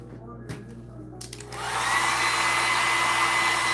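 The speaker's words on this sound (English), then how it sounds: "I'm going to use the blow dryer so it'll dry fast." Hair blow dryer switching on to dry watercolor paint, a few handling clicks first, then a loud, steady close-up whooshing roar that continues to the end.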